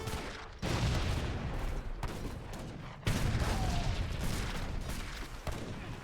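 Musket volleys from massed troops in Age of Empires 3 crackle in dense, overlapping bursts, with a sharp fresh salvo near the midpoint and steady battlefield rumble throughout.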